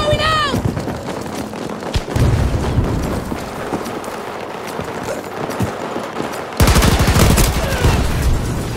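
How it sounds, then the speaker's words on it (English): A hand grenade explodes during a Battlefield 2042 Conquest match, part of a dense, loud run of gunfire and booms. A heavy blast lands near the end, a voice shouts over the battle, and there are synthetic beeps at the start. "Grenade's going out!"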